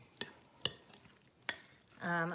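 Mexican street corn ingredients with sour cream being mixed in a bowl, a few sharp utensil clinks against the side spaced apart, quiet and close, followed by a voice starting to speak.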